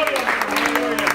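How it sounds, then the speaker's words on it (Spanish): A church congregation at a campaign service claps together, steady rhythmic clapping that runs the whole moment, with voices mixed into it. "Den un fuerte aplauso al Señor, hermano."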